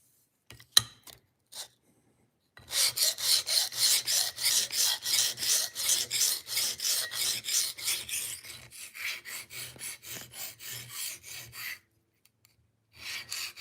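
A knife blade is sharpened on a diamond stone: a long run of steady, close rasping strokes in quick rhythm, preceded by a few sharp isolated scrapes and followed by a pause and a brief final rub.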